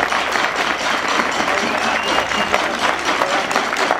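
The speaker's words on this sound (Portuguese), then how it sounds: "Uma salva de palmas, por favor." Applause from an audience at a village cultural festival, a steady dense patter of many hands clapping for the whole stretch, fairly close and even.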